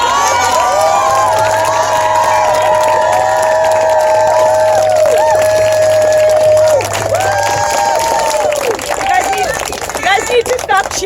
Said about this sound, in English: You guys need to stop cheering so I can continue because I'm choked up